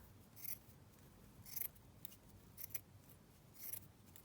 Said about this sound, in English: I'm just going to trim that off actually, because I don't really want that gathered section